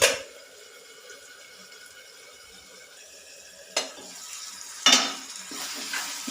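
Onions and green chilies frying in a covered pan, a muffled low sizzle, then sharp metallic clatters as the lid is lifted and the pan handled, with the frying brightening afterward; no voices.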